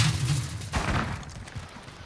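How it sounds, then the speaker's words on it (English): A frag grenade in a multiplayer shooter game bursts with one broad, heavy blast roughly midway, its rumble trailing off amid continuing gunfire and background battle noise. "Frag out!"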